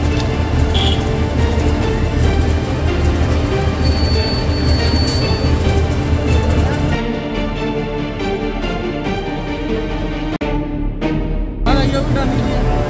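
A train running on the tracks at Sangrur railway station gives a loud, continuous rolling rumble with metallic wheel squeal and rattling, easing slightly partway through before a sharp clank and renewed roar.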